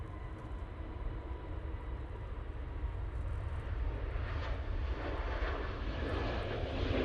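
An Airbus A320neo airliner at Manchester Airport gives a continuous engine roar, fairly distant and even at first, then growing a little brighter and stronger toward the end.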